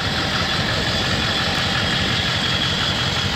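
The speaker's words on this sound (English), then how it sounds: "Motor runs great, as you can hear it." A 2003 Ford F-250 four-wheel-drive pickup with a 7.3-liter diesel idles steadily, a loud, close, constant engine drone with no talk over it.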